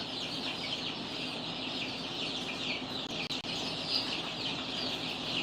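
Chickens cluck steadily around a chicken coop where baby chicks are kept, a dense, continuous flock chatter at close range with no speech.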